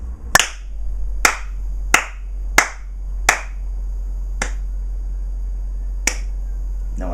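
Seven sharp, isolated hand claps, spaced unevenly about a second apart, crisp and close against a steady low hum.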